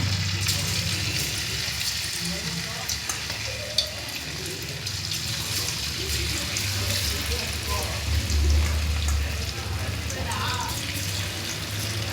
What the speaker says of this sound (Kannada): ಇವಾಗ ಎಣ್ಣೆ ಕಾದಿದೆ. ಇವಾಗ ಒಂದೊಂದೇ ಫ್ರೈ ಮಾಡೋಣ.